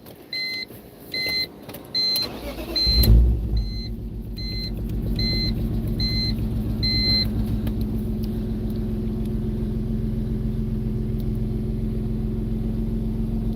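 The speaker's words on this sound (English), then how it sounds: "Let's see how she fires up." A BMW E36 M3 with a manual gearbox gives a few electronic chime beeps, then its engine cranks and catches with a loud burst. It settles into a steady, rumbling idle that runs on close by without any voices.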